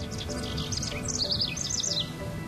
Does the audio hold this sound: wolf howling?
no